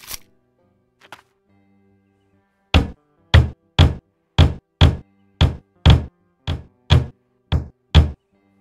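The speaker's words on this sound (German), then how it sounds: "Okay, dann nehmen wir Hammer in die Hand." In the Wild West Dynasty video game, a hammer knocks while building: a steady series of about eleven loud, evenly spaced wooden thuds, near and clear, after a couple of faint earlier taps.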